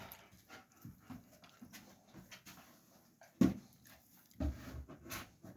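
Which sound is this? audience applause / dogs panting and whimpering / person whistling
dogs panting and whimpering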